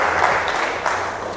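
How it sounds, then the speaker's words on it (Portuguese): A church congregation claps during a sermon, a dense, even wash of applause that sounds fairly close and carries on with no speech over it. "palmas para o Senhor Jesus"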